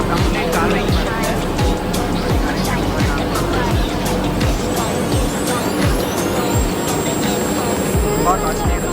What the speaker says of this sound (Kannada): complete carving machine